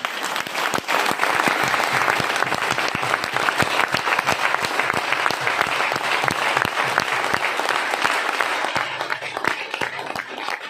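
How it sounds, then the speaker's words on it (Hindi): Thunderous applause from a seminar audience, dense clapping from many hands held at a steady, loud level for around ten seconds before tapering slightly at the end. "एक बार दोनों हाथ ऊपर करके उनके अभिवादन में एक बार जोरदार तालियां होनी चाहिए"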